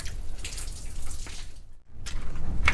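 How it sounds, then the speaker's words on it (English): Water drains and trickles from gravel held in a diamond-sifting sieve at a state park dig site, a close, steady dripping patter with a brief quiet gap before resuming. "Let the water drain."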